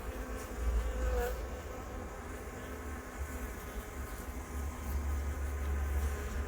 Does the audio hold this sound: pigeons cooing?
no